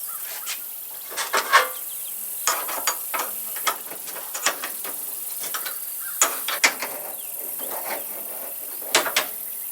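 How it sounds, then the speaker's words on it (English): Metal rotisserie sleeve threaded into an outdoor motor unit on a Masterbuilt 600 Gravity Series smoker, giving off scattered light ratcheting clicks and scrapes in irregular bursts at moderate level, with no talking. "This sleeve passes through the wall and screws into the motor unit."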